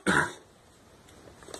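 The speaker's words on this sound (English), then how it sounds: "had to cough. I apologize." A single short, sharp cough bursts out at the start and is followed by quiet room tone.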